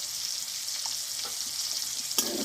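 Tomatoes with salt and turmeric fry in a pan with a soft, even hiss, steady and fairly quiet, broken near the end by a single light clink of a utensil.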